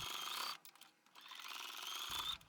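Sewing machine straight stitching the feet of a small dinosaur plush toy hums in a fast, even buzz, pausing briefly before resuming close and steady.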